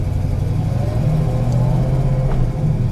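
A 1970 Plymouth Cuda with a 440 Six Pack V8 idles close by with a deep, steady rumble and a slight lift in revs partway through, no voices over it.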